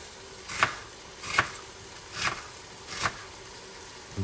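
A knife slices through veal tenderloin on a cutting board for blanquette de veau, four evenly spaced crisp cuts about a second apart, close and clear with no talking.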